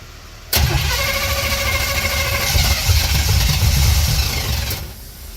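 Old Ford OBS pickup truck with a no-start fault cranking steadily for several seconds without catching, a rhythmic close-up churning of the starter that stops abruptly.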